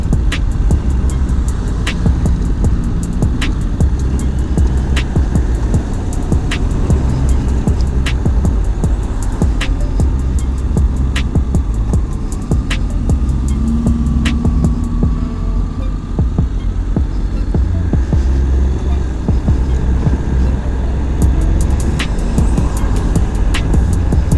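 A Honda X-ADV 750 scooter-style motorcycle cruises along the Pattaya beachfront, its engine droning steadily up close with wind buffeting and occasional throttle swells, over roughly twenty seconds without speech.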